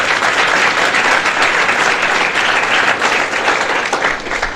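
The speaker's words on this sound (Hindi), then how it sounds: "एक बार जोरदार तालियां बजाइए।" A large audience at a Hindi motivational student event breaks into loud, sustained applause, a dense wash of clapping that holds steady throughout with no speech.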